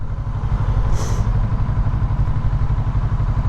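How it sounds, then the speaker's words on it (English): A Kawasaki Z650RS motorcycle with an aftermarket exhaust rumbles close by, a deep throbbing engine beat with mechanical clatter from the gearbox and a brief higher whine partway through. "It's actually a very good looking exhaust, and the sound of it's pretty decent as well, you know. that nice gearbox sound"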